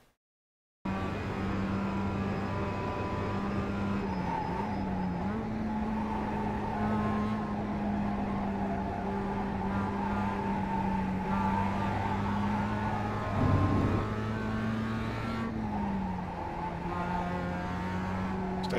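A Mazda MX-5 race car in the iRacing simulator at Lime Rock holds full speed, its steady engine drone running close and continuous with a brief surge partway through and a small shift in pitch.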